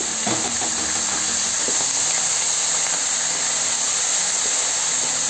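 Green chillies and curry leaves sizzle steadily in hot tempering oil, a continuous loud hiss and crackle with a few sharper pops near the start, no voices.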